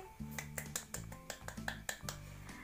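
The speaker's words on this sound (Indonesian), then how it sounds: "Yuk beri tepuk tangan untuk diri kita sendiri" About a dozen crisp, close claps come at a quick, slightly uneven pace over soft background music during a fourth-grade classroom lesson.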